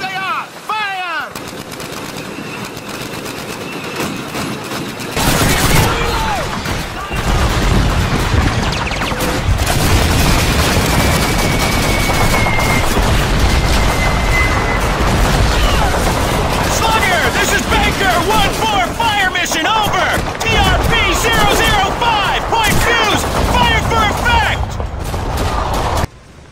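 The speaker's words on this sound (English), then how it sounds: "Wait for it, machine guns! Machine guns ready! There they are! Fire!" Machine gun fire from a Call of Duty game battle: after a quiet opening with a shouted voice, sustained bursts of automatic gunfire break out and keep going, mixed with booms and more shouting.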